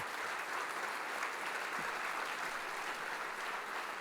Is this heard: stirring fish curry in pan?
no